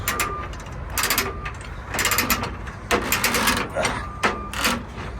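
A ratchet strap is tightened on a car hauler trailer with repeated loud, clicking ratchet strokes in quick bursts, heard up close outdoors over faint background noise.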